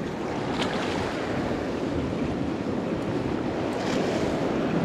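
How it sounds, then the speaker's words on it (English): Ocean waves wash against coastal rocks in a steady, broad roar of surf mixed with wind buffeting the microphone, continuous and fairly loud with no talking. "Just keep an eye on the waves."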